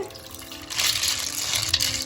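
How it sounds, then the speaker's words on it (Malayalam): Water pours into a pot of Kerala-style clam meat curry, a close rushing splash that starts after a brief pause and runs steadily to the end. "നമുക്ക് അതിന് പാകത്തിനുള്ള വെള്ളം ഒഴിച്ചിട്ട്"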